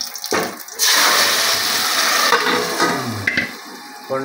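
Tempering spices hit hot oil for a phodni poured over Maharashtrian colocasia leaf curry, a loud, close burst of sizzling that starts suddenly and crackles steadily, easing slightly toward the end.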